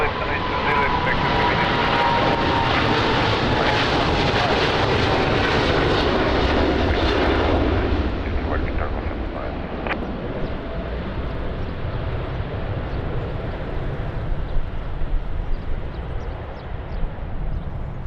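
A Boeing 777 roars loudly and close by at Lisbon Airport. The engine noise holds steady for several seconds, then fades to a lower, distant rumble.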